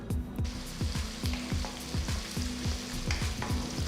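Chopped onions and cumin fry in hot oil in a wide kadai, a steady close sizzle broken by regular scraping strokes of a spatula stirring the pan.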